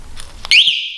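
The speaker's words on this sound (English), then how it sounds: "That means the alarm is on." An electric cruiser e-bike's alarm arms after the lock button is pressed, giving a brief click followed by a loud, steady high-pitched electronic chirp-tone that sustains on its own.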